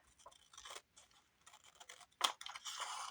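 Scissors snip through paper for tiny envelope tags in short, quiet, close cuts, with a few separate crisp snips and a sharper click near the end.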